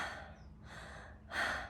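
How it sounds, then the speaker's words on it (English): A person takes big, hard breaths, with three forceful, breathy inhales and exhales close to the mic. The last one is the loudest. "Those are big, hard breaths."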